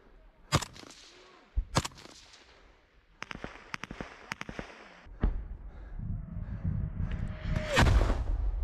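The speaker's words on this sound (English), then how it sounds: "Now hear another artillery round exploding nearby" Artillery fire and shells exploding in the war in Ukraine: sharp, loud booms and cracks come in scattered bursts, with a rumbling blast and a descending whistle near the end.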